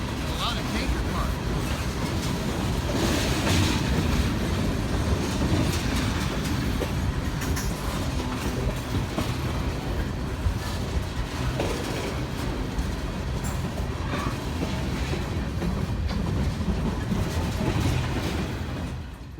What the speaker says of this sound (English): A lot of tanker cars.